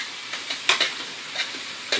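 Diced onion and chopped garlic cooking down in a pot, heard as soft, intermittent stirring scrapes over a faint sizzle, with no talking.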